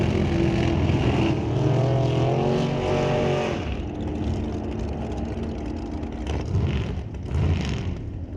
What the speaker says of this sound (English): Camaro smoking a little off the left bank, but he pulls in a 947 at 132 miles per hour.